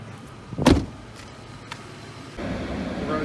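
Someone climbs into a Ford F-150 pickup with a 3V engine: a loud clunk of the door or a seat comes first, then a quieter click, then a steady low engine hum sets in near the end.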